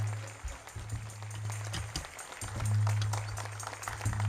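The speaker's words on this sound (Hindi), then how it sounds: "जोरदार तालियां खुदावंद के पाक रूह के लिए जो यहां जुम्बिश कर रहा है।" Audience applause at a church worship gathering, a crackling spread of many hands clapping under a steady low electronic hum that drops in and out.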